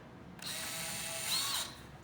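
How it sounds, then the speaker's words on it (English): A power drill fitted with a plain bit bores through wood, giving one whining burst of just over a second that rises near its end, close and moderately loud. "drill down through where you made your mark"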